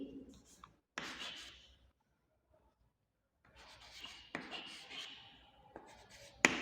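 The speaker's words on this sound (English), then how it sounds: "Then all of you write in your textbook" Pens or pencils scratch and rub across textbook pages as schoolchildren write in class, bursts of close scratchy strokes separated by a quiet pause, with faint voices in the background.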